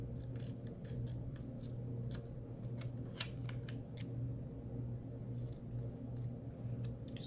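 Scissors snip excess paper scraps off a small box at a planner-decorating desk, a quiet run of crisp, irregular cuts over a low steady background hum.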